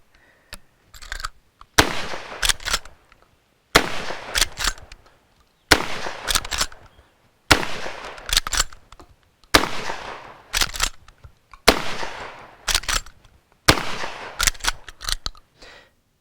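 Century Arms PW87 lever-action shotgun fired repeatedly, eight sharp loud blasts spaced about two seconds apart, each followed by mechanical cycling clatter and ringing decay, with no talking.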